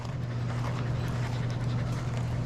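A Portuguese Water Dog pants in steady, continuous breaths on a grooming table, close and fairly loud over a constant low hum in the room.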